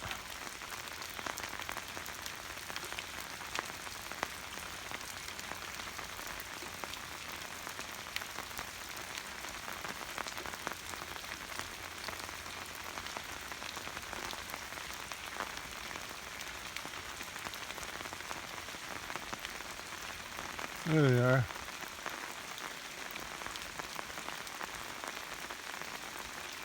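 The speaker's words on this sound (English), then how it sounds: "Listen to the rhythm of the falling rain." Steady rain falls on a farm with cattle, a dense constant patter close by. A brief voice speaks near the end.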